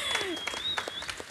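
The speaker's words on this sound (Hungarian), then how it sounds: "egyébként megérdemlik a tapsot" A brief burst of applause from a crowd at a charity auction, with a steady high whistle-like tone running over it.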